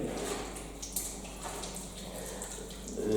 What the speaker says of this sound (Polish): Tutaj doleję trochę wody.